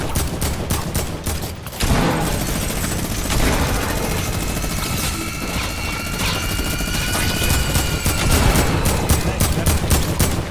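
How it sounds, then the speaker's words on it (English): Machine gun fire in a shooter game rattles in rapid bursts, loudest at the start and end, over a steady helicopter-like drone and scattered game effects. "Want to take him out with the machine gun too."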